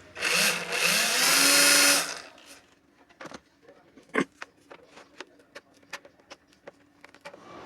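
A drill briefly whirs loudly into the plastic body of a homemade water cooler to make a hole for an indicator light, then a run of sharp clicks and taps follows as the drill stops.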